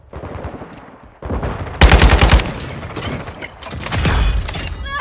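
Gunfire in Call of Duty: Modern Warfare II on a stormy night: bursts of rapid automatic shots and sharp cracks come in clustered volleys, loud and close, with mechanical clatter between them.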